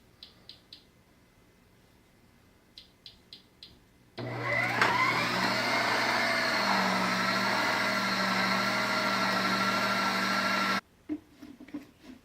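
An electric mixer whirring through a shortening mix, a steady loud motor drone for several seconds after a few light taps, then cutting off abruptly.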